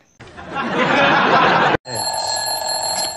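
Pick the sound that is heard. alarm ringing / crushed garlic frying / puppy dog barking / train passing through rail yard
alarm ringing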